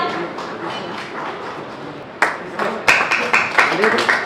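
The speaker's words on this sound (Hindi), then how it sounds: "Please give it a huge round of applause, everyone." An audience applauds a portrait drawn by a child at a civic event: a murmur of voices and room noise gives way midway to a burst of close, sharp hand claps that build into rhythmic clapping.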